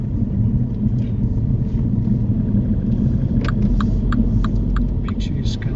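Low, steady engine rumble from a car on a driving lesson fills the cabin throughout, with faint ticking clicks like an indicator near the end and talk over it.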